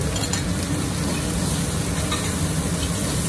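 Celery, onion, carrot and ginger stir-fried in a very hot wok, a dense, continuous loud sizzle with constant hiss and faint stirring scrapes, no talking.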